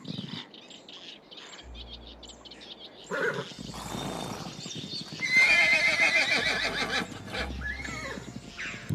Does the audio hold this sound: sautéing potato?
no